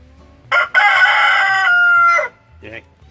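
A rooster crows loudly and close by, giving one long drawn-out cock-a-doodle-doo after a short opening note and followed by a brief cluck, with no talk over it.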